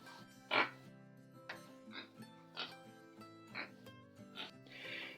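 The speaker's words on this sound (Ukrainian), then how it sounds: "І три свині почали битися." Several pigs grunting and squealing as they fight, with repeated short snorts and louder squeals spread across the clip, close by and with no speech over them.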